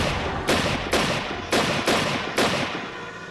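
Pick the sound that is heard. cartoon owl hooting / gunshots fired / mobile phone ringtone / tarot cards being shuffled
gunshots fired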